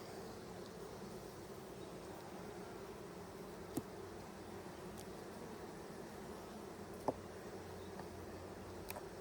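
Honey bees at an open hive during an inspection, a steady, faint buzzing hum running throughout with a few brief clicks and knocks.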